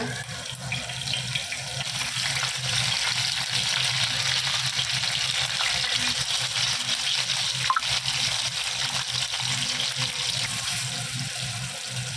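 Curry leaves sizzle in groundnut oil for a mackerel fish curry, a steady, dense hiss of frying that carries on evenly throughout with no voices.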